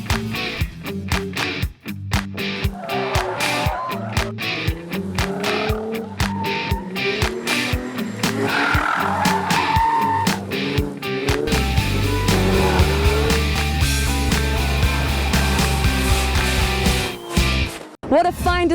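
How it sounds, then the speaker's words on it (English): A stunt car driven by Terry Grant burns rubber, its revving engine and long squealing, skidding tires loud and close across the whole stretch, with voices heard over it at a racing event. "What a fine display of burning rubber we just witnessed there"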